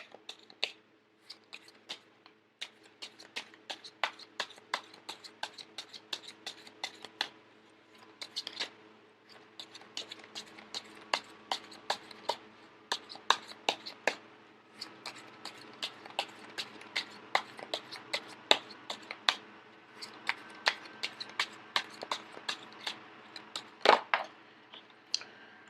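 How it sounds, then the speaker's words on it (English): Rapid papery clicks and flutters of tarot cards being shuffled, close by, in dense bursts with brief pauses, no talking. "I am going to shuffle until the first card pops out"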